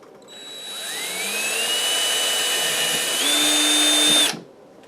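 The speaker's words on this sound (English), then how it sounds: "drill a hole here through that leather and through the end of the wood, pilot hole for myself" A power drill bores a pilot hole through leather and the end of a wooden case. The motor whines up to a steady pitch, climbs a little higher near the end, then cuts off abruptly after about four seconds.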